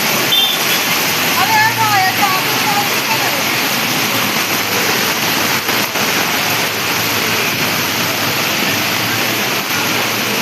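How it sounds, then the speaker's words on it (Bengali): Heavy rain pours down at night at Gorabazar, a loud, dense, constant roar of falling water close around, with someone speaking briefly over it early on. "গোড়াবাজারে দাঁড়িয়ে আছি, মারাত্মক বৃষ্টি হচ্ছে।"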